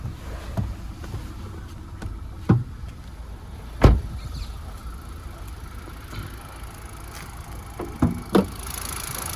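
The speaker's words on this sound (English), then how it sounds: "The motor just ticking over nicely." A 2017 Kia Rio S with a manual gearbox idles steadily with the bonnet open, a low, even engine hum heard up close. A few brief knocks and clicks stand out over it.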